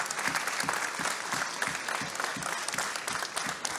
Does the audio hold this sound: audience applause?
yes